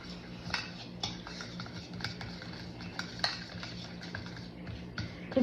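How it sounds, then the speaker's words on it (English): A spoon works powdered sugar into a cheese filling in a bowl, making soft, steady scraping and occasional light clinks against the bowl, faint and close with no voices. "And I'm going to mix that up."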